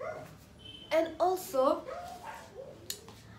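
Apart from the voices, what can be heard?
neighbor's dog barking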